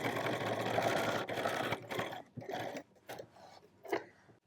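A sewing machine stitches elastic shirring, running in steady bursts of mechanical whirring with short pauses for backstitching, close and moderately loud.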